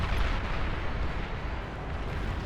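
Artillery volleys fire in the real-time strategy game Beyond All Reason, a dense rolling rumble of overlapping booms and blasts that keeps pounding without pause.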